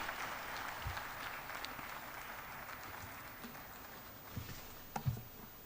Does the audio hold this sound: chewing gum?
no